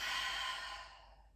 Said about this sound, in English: Inhale deeply, and then exhale